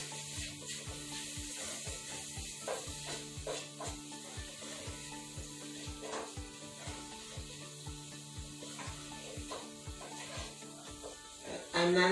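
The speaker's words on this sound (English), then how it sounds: "I'm going to mix that all in" Black pepper and spices being stirred into a pot of smoky vegan lentil soup with kale, heard as a steady run of rhythmic scraping strokes against the pot over a faint continuous hiss.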